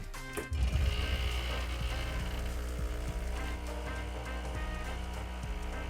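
An espresso machine brewing a TIC TAC espresso starts with a click, then a steady loud pump hum and vibrating buzz runs close and continuous to the end.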